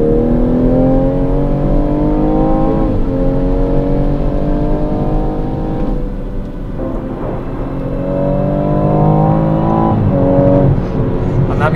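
A 2017 BMW M240i M Performance with a turbocharged six-cylinder engine pulls hard through the revs in repeated rising sweeps, loud and close, with a short dip between gear changes and no talking.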